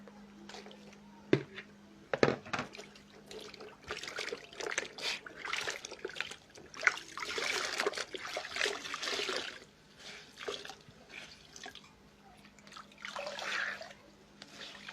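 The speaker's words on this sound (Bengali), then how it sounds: "আমি 10-15 মিনিট রেখে কাপড়গুলো ধুয়ে ফেলবো" Batik-dyed fabric being washed in water, with quiet intermittent sloshing, trickling and dripping over a faint steady hum, no voices.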